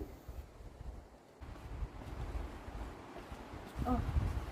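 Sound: wind in a garden sounding like sea waves

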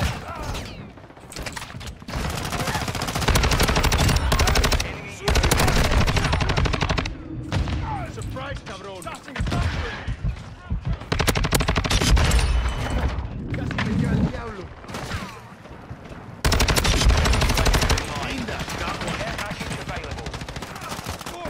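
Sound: gunfire in a Call of Duty video game

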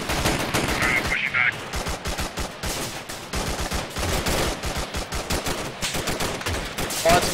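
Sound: gunfire in the video game Arma 3

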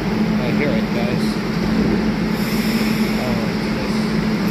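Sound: Montreal Metro Azur train arriving at station

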